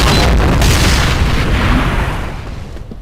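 A heavy explosion booms in a first-person shooter match, one loud deep blast with a rumbling tail that fades over about three seconds, with no talk over it.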